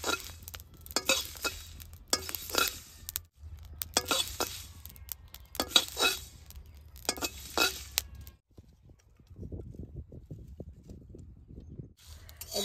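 Spices dry-roast in a pan while a utensil stirs and scrapes, giving bursts of clinking, rasping strokes in an uneven rhythm, then a quieter stretch of softer rustling near the end.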